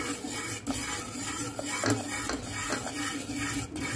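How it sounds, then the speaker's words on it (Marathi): A rice paste is stirred into boiling water in a pot, with a steady, close scraping and swirling and occasional soft knocks of the spoon against the pot over a constant low bubbling. "थोडंसं टाकून घ्यायचं आहे आणि मिक्स करत राहायचं आहे"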